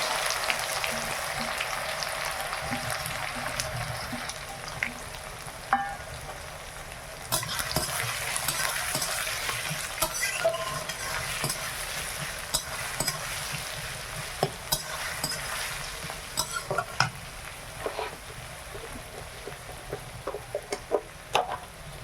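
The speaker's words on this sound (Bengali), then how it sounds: "ভালো করে পেঁয়াজটা ভেজে নেই।" Onions frying in oil with whole cumin seeds, cinnamon, bay leaf and dried red chillies, a steady close sizzle broken by frequent scraping stirs, with no talk.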